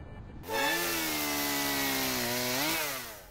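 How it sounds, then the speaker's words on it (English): A chainsaw revs in a Roblox horror video game, a loud steady buzzing drone that kicks in abruptly, holds for a few seconds and then dips slightly at the end. "What the heck is that chainsaw noises?"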